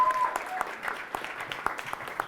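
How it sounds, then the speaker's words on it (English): Audience at a youth panel event applauds, a moderate bed of scattered hand claps with a few sharper individual claps standing out, heard from mid distance. "Give him a round of applause."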